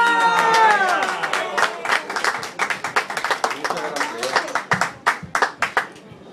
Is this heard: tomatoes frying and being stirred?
no